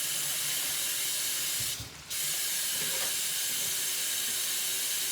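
Tap water running steadily into a kitchen sink while chopped meat is rinsed, a close continuous hiss with a brief dip as the flow is interrupted.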